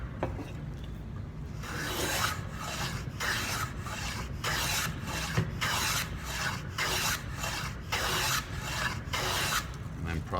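Hand sanding of a clamped wooden board joint, a rhythmic series of rasping back-and-forth strokes, close and fairly loud, with no talking.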